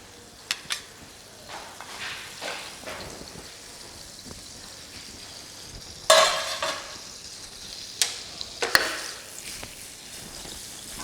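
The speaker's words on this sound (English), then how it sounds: "After draining your pan, you just melt your butter." Butter melts and sizzles in a dry frying pan while a zucchini and potato cake is prepared, with a soft continuous frying hiss broken by occasional sharper stirring scrapes and clinks of utensils against the pan.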